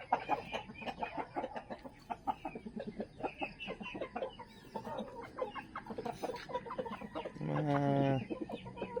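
Native chickens on a farm cluck and call repeatedly in a dense, busy chorus, with a louder, longer crow-like call rising near the end.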